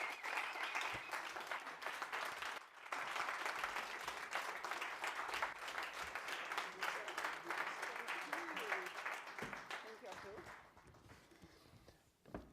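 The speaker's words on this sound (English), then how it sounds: "Let's give her a standing ovation." Crowd at an International Women's Day event gives a woman a standing ovation: sustained, full applause with cheering voices mixed in, fading toward the end as a voice begins to speak.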